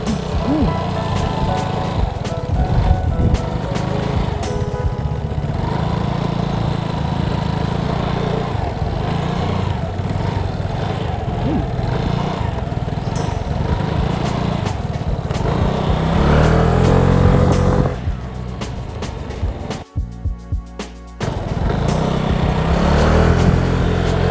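A Vespa Primavera Sean Wotherspoon Edition scooter engine on a test ride along a closed road inside a residential complex: a steady, buzzing drone that runs throughout, then briefly drops and returns near the end.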